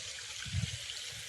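Irrigation water from a running pump motor flows through a wet farm field, a soft steady rush with a brief louder surge of splashing midway.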